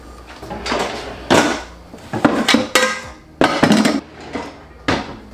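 Deep saucepan with a wide base handled in a home kitchen, giving a series of clanking metal knocks and scrapes in irregular bursts, fairly close and loud, with no talk.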